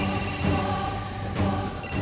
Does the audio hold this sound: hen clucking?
no